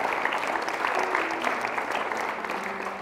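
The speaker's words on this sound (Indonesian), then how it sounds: "Tepuk tangan untuk beliau." Studio audience applauding on an Indonesian television talk show, a steady dense wash of clapping hands that holds for the whole stretch without pause.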